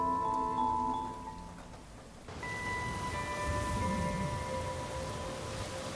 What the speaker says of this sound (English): the rain began to pour heavily, and the winds blew through the windows